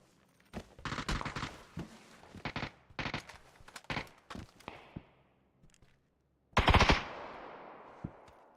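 PUBG gunfire rattles in quick automatic bursts and scattered single shots, some sharp and close, others thinner and distant, with a pause before one loud nearby impact burst and a final faint shot.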